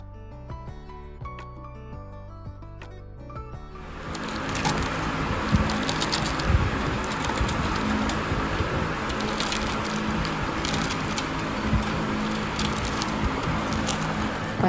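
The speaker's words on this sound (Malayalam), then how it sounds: "അപ്പോൾ ദോശൻ്റെ ക്രിസ്പിനെസ് ഇതിൽ സൗണ്ട് കേൾക്കുമ്പോൾ തന്നെ നിങ്ങൾക്ക് മനസ്സിലാവുന്നുണ്ടാവും." Crispy ghee roast dosa made from rice flour is broken and crunched up close, with a dense run of dry crackling snaps after a stretch of soft music.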